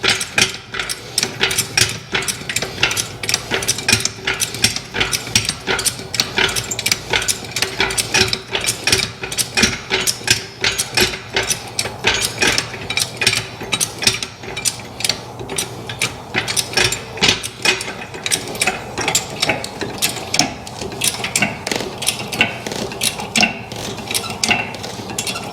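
A Black Jack 2 1/2 ton low profile service jack on rollers raises a car, giving a rapid, steady run of metallic ratcheting clicks up close, repeating evenly throughout without speech.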